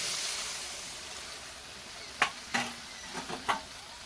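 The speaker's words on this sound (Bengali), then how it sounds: "এর মধ্যে দেব পরিমাণ মতন জল।" Water poured into a hot pan of Bengali rohu fish curry gives a faint, soft hiss, followed by several quiet clicks and sizzling pops from stirring.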